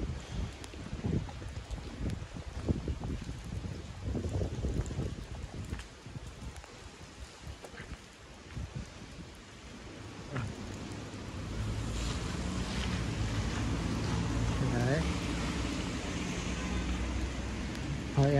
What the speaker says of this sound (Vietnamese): bão to nhưng mà cũng không to lắm, chỉ ảnh hưởng gió một chút với lại mưa thôi